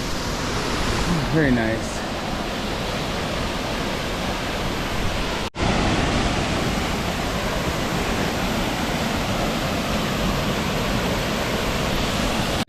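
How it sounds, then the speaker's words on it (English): A waterfall on the Appalachian Trail gives a steady, broad rushing roar that fills the whole stretch. Someone speaks briefly near the start. "Just got done hanging out at the waterfall"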